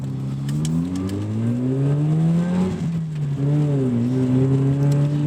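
A 1990 Mazda RX-7 FC with a rotary engine drives close by, its smooth buzzing drone rising steadily in pitch, easing briefly, then climbing again under acceleration.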